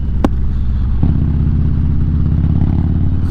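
Harley-Davidson motorcycle engine, a Street Bob 114 or Road Glide 130 bagger, running loud and close with a deep throbbing idle, a sharp click early on and a steady rumbling rev that holds throughout.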